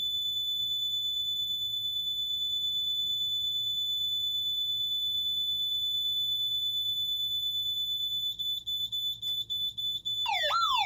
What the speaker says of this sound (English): 30 seconds of bearing through that really, really loud and annoying piezo buzzer.